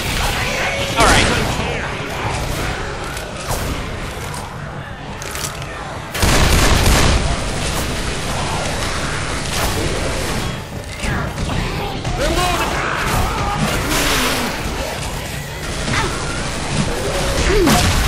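A loud, close grenade blast booms in Left 4 Dead amid bursts of gunfire and mechanical clatter, with dense combat noise continuing afterward and voices faintly underneath.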